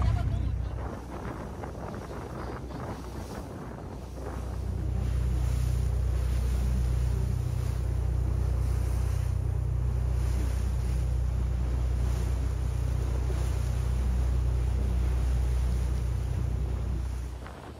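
A boat on the hour-long sea crossing to Keelung Islet in Taiwan rumbles steadily with a heavy low engine drone and wind buffeting the microphone, quieter for the first few seconds and then loud and constant.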